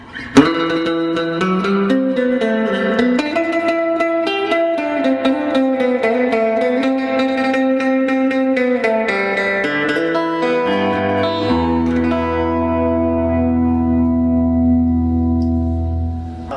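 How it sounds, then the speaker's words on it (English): Electric guitar with a bright, reverb-drenched surf tone plays a twangy melodic line, then settles into a long sustained low chord. "Definitely going to give us that quintessential classic surf sound, but with a different guitar."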